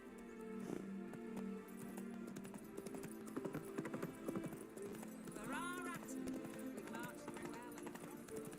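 Hooves clip-clop at a steady gallop as a horse runs in The Witcher 3: Wild Hunt, set under game music and ambience, with a brief whinny partway through and a player talking over it.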